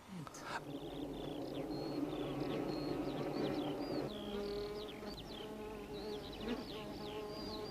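Honeybees buzzing steadily at a hive, with a dense continuous drone and faint chirps over it, close and constant throughout.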